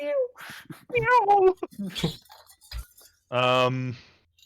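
A person's voice imitates a frightened cat with rising, wavering meow-like cries and closes on a long, loud, strained yowl, broken by short gaps and a small clink.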